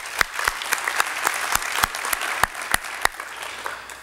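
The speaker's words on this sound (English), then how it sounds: "Another big round of applause for Alex Linderer." An audience claps at a winter sports awards ceremony honoring high school coaches and athletes, a full round of applause punctuated by sharp, loud individual claps close by, fading slightly toward the end.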